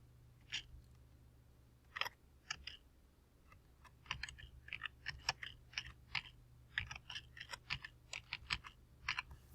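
A name is typed on a computer keyboard: quiet, close keystrokes in uneven bursts, sparse at first and then quicker clusters, over a low steady hum.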